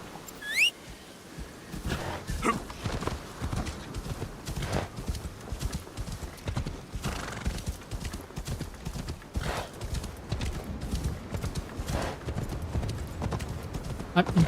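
Horse hooves in a video game, with Yasuke riding: brisk clip-clop beats patter steadily throughout, with a short whinny near the start and a faint voice speaking underneath.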